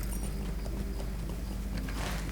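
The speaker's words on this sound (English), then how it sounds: "I think I can do this a little bit more easy if I take a horse to Dwalling" Horse hooves clip-clop in the online fantasy game Lord of the Rings Online, a steady rapid trotting rhythm over a dense, loud game ambience.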